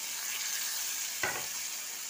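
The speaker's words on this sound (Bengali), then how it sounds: "চিংড়ি মাছটা ভাজা ভাজা হয়ে গেছে" Prawns fry in a pan with chilli and turmeric paste, giving a steady close sizzle with one brief louder scrape or splash partway through and no talk.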